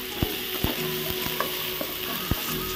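Mushroom pepper fry is stirred in a pan, with a steady sizzle of frying under several sharp scrapes and knocks of the spatula spaced through the clip.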